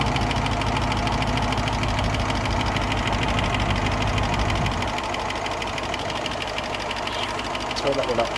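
A 1972 Range Rover engine idles steadily throughout, a continuous low rumble with a slight drop in level partway through as the carburettor is adjusted, with no talk over it.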